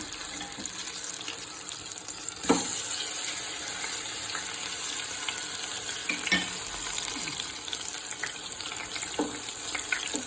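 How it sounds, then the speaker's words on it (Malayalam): Chakka pori fritters deep frying in hot oil, a steady close hiss and fizz that runs throughout with scattered pops and spatters, and no talk. "അങ്ങനെ ഓരോന്ന് മുക്കിപ്പൊരിച്ചെടുക്കണം"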